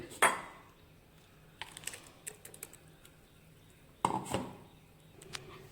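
Ground tomato chutney paste is tipped and scraped into a bowl: scattered clinks and clattering knocks of a utensil against the dish, with quiet gaps in between.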